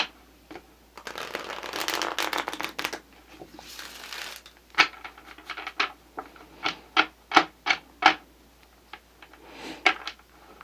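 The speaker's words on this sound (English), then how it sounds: "One more shuffle." Tarot cards being shuffled up close: a long riffling burst, a pause, then a series of sharp separate snaps and taps in a quiet room.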